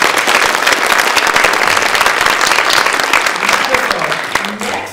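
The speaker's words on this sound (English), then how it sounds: "So big round of applause for Masherie." An audience at a local authors' event claps loudly and steadily for several seconds, with crisp individual claps in the mix. The applause fades slightly at the end as a voice begins underneath.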